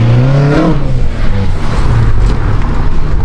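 A 500hp BMW car engine revs loud and close while pulling out, a steady low rumble with a rising whine early on, continuous throughout with no talk.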